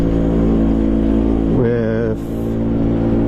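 A Vespa PX MK1 scooter with a VMC Super G kit, Polini big box exhaust and Polini up gear kit revs in third gear, a loud close engine drone that climbs in pitch midway and then eases off.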